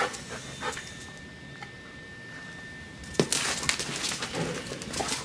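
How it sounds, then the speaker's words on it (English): A dog barks and whimpers near a garage where a 1938 Packard Super 8's steering is being repaired. The sounds are faint at first, then grow into louder, sharper bursts over the last couple of seconds, with no talking. "Crazy dog."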